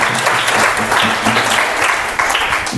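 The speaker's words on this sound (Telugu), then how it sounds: "చప్పట్లు కొట్టావు" A crowd claps loudly and continuously, dense overlapping applause that stays close and even throughout.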